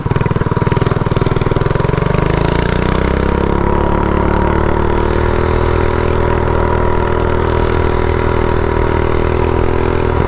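A custom minibike with a GoPowerSports front end revs hard on a road. The engine note is loud, close and buzzing, and its pitch swells and settles as the throttle is worked. No voices are heard.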